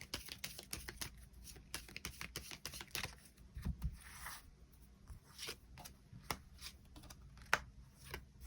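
Tarot cards are shuffled and drawn by hand, a close, quiet series of irregular papery flicks, slides and taps, with a brief flurry of riffling partway through and no voices.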